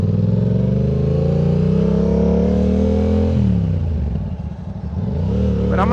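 Yamaha R7 sport motorcycle engine droning close and loud, its pitch climbing steadily, then the revs drop off and swell back up near the end, with no talking.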